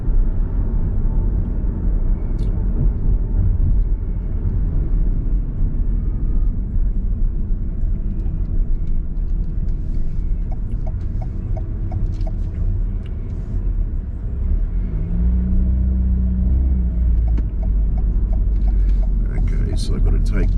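A car drives along a highway in Lithuania, its low steady road rumble continuous and close from inside the vehicle, with a voice faintly present at times.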